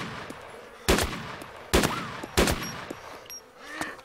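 Three sharp gunshots from DayZ ring out at close range, evenly spaced about a second apart, each with a short echoing tail over a low game ambience, with no talk.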